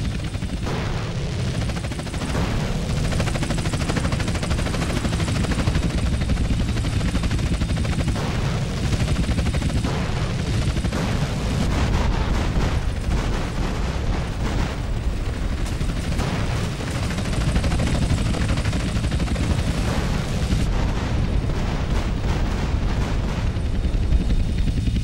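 In GTA San Andreas, a helicopter drones steadily while bursts of automatic gunfire and booming blasts pound away, dense and loud for the full stretch, with no talking.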